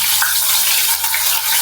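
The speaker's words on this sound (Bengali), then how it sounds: "কুচি করে নিয়েছি, দিয়ে দেব তেলের মধ্যে।" Two large chopped onions sizzle loudly in hot oil, a dense, close, unbroken hiss for the whole short moment, with no voices.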